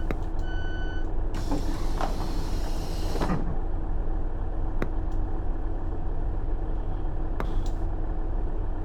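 Left-hand doors on a Transport for Wales Class 150 Sprinter diesel train open: a short run of electronic warning beeps, then a loud pneumatic rush of air, followed by a few clicks over the low, steady rumble of the idling engine.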